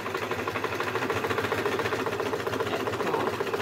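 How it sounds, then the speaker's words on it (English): Sewing machine stitching steadily along the edge of a fabric pocket on a sewing caddy, a continuous close, even mechanical whirr with rapid needle rhythm throughout. "we're sewing quite close to the edge of the pocket without, as close as we can basically, without missing it"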